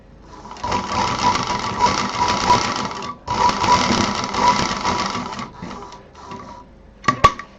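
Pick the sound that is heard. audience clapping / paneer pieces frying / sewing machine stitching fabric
sewing machine stitching fabric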